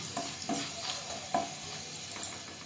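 Garlic frying in a pan for about a minute, a soft steady sizzle broken by several scraping stirs of a spoon, close and fairly quiet with no talking.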